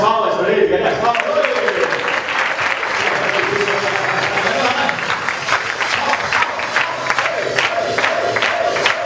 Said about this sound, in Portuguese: Cadê as palmas pra ele? Cadê as palmas?